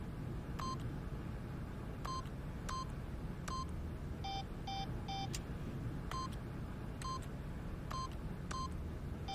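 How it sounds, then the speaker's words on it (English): Keypad tones ring out one by one as random codes are punched in The Stanley Parable, about a dozen clean electronic beeps at uneven intervals, some in quick triplets, over a low steady background rumble. "Stanley simply began entering random codes into the keypad"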